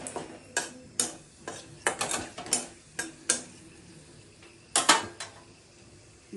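A bay leaf and a dried red chilli go into hot oil with cumin, followed by a series of short, sharp scraping and stirring strokes with faint sizzling, close and uneven, with no talking.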